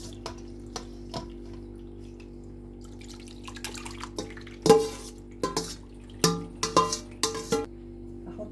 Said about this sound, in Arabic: بص الشرش اللي بينزل ده